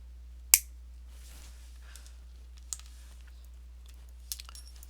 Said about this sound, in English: I'm going to place it right up against where I cut and cut into the next loop.